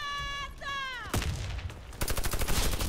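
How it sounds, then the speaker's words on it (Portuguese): Sniper rifle fire in the online shooter Warface: after some tonal game sounds, a single sharp blast rings out, followed by a run of loud, rapid, closely spaced shots. "Ó, tiro de snipes."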